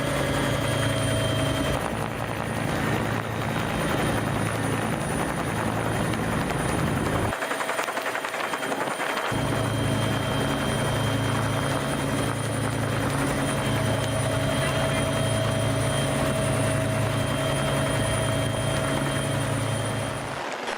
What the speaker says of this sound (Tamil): மீட்பு குழுவினர் ஹெலிகாப்டர் மூலம் கயிறு கட்டி மீட்டனர்